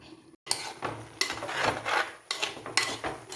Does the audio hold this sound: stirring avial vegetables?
yes